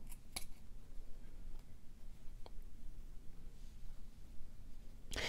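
Scissors snip slits into T-shirt yarn while a beaded necklace is being made: a few sharp, isolated metallic clicks spread across the stretch, with one louder snip near the end, set against quiet room hiss and no talking.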